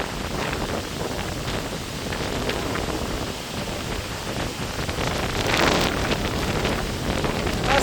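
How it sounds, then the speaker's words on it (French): Strong storm wind gusts roaring across a microphone during a thunderstorm front in the Grésivaudan valley, a constant loud buffeting rush that swells into a harsher, heavier blast toward the end, with no voices. "le vent il va tout péter"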